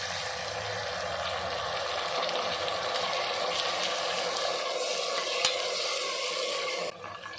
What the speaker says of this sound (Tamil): நல்லா வெங்காயம், தக்காளி எல்லாமே நல்லா வதக்கி விட்டுக்கலாம்.